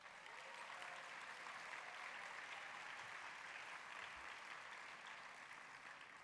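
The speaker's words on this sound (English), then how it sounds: "let's thank our servers in the room by giving them a round of applause" A convention luncheon audience gives a round of applause for the servers in the room, a dense, even wash of clapping that holds steady throughout, heard from a distance at moderate volume.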